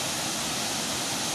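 Waterfall at Curug Kembar Cinyenang in Malasari, Bogor, a steady broadband roar of falling water, loud and continuous with no voices.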